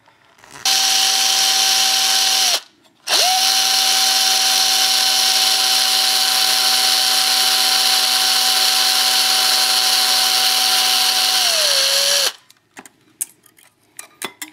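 A power drill bores a second hole through a rotor mast, its steady motor whine running loud and unbroken apart from one short pause, then winding down and stopping.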